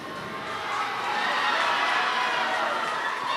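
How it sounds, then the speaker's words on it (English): A large crowd cheering and roaring at a live NHRL robot combat sumo match, a steady loud wash of shouting voices that swells midway and holds. "The crowd going absolutely nuts for some sumo."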